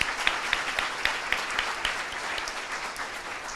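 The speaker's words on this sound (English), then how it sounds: "Let's give them more round of applause." Applause from a seminar audience at a business event, a dense patter of clapping with a few sharper individual claps, steady and fairly close, fading slightly toward the end.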